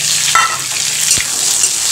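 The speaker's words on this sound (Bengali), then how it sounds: "আলুর মাঝখানে পেঁয়াজটা দিয়ে দিলাম, এবার পেঁয়াজটাকে ভেজে নেবো" Onions frying in hot oil among potatoes in a pan give a steady, close sizzle, broken by a couple of sharp scrape and stir knocks.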